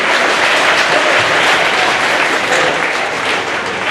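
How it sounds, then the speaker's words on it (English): An audience at a 2015 spelling bee in Windsor, Minnesota applauds loudly and evenly, a dense wash of clapping that lasts about four seconds without a break. "Let's give Mr. Joel Offset a nice round of applause to be our counselor today."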